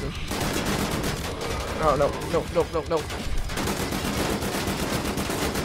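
Rapid gunfire from dual-wielded guns in Wolfenstein: The New Order bursts in dense, overlapping volleys throughout, with a short spoken exclamation over the shooting.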